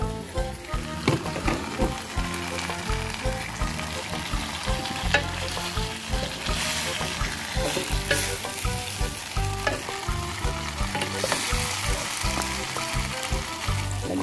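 Vegetables and tofu sauté in a hot pan, giving a steady, close crackling sizzle with frequent scraping stir strokes throughout and no talking.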